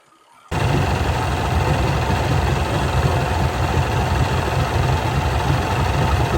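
A Mercury 200XL EFI outboard motor kicks in after a brief quiet moment, then idles at a steady, low, rumbling chug throughout.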